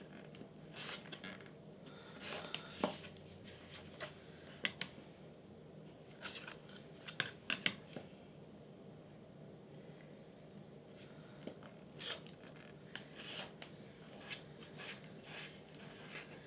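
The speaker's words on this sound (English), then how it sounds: "then you can just trim that down to 1 3/4 of an inch" A cutting tool trims fabric half square triangle blocks to size, making soft, faint snips and rustles scattered irregularly over a quiet background hum, up close.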